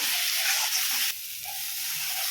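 Water poured into hot oil with fried turmeric, chili, cumin and coriander powders gives a loud, dense sizzle and hiss that drops sharply partway through, then settles into a steadier, softer frying crackle.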